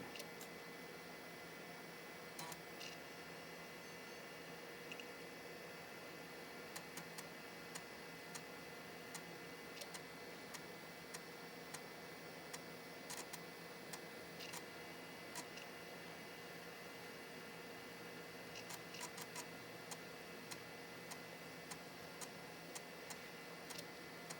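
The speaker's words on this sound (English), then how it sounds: "we're going to see if we can actually boot from the floppy on the machine that we made it on" A floppy disk drive in a Compaq LTE Elite laptop boots from a disk, giving steady faint ticking and clicking with a few sharper clicks over a soft constant hum, heard alone.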